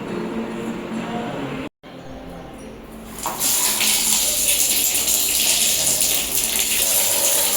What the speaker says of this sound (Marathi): तोपर्यंत आंघोळीचं पाणी वगैरे काढून ठेवते